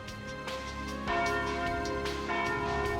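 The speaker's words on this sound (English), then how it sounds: "Ah, and there's the noon bell." A noon bell rings out in Trails through Daybreak, its resonant strikes tolling at a steady rhythm, each one ringing on and overlapping the next, loud and clear with no talk over it.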